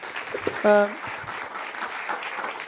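Audience clapping for speakers at an endurance sports session, moderate and scattered, with a brief tonal beep near the start and talk over the applause.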